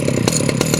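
Chainsaw cutting cedar during a milling job, a steady close engine drone with rhythmic bursts of louder cutting noise, no voices.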